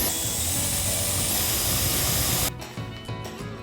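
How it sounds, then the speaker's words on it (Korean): A power drill bores holes through the base of a plastic mixing bowl, a loud steady whirring grind lasting a couple of seconds before cutting off to quieter handling noise. "플라스틱 믹스볼의 밑판을 드릴로 여러 개의 구멍을"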